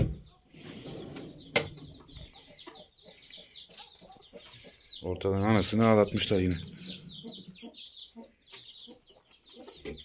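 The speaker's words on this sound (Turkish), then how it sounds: "Şu an civcivlerin sesini duyuyorum kapıdan." High, thin chirping of chicks heard through a door repeats in the background while a person speaks nearby and a hen clucks loudly partway through.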